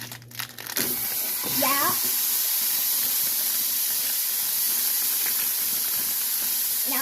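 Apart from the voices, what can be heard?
ground beef being added to a tomato soup mixture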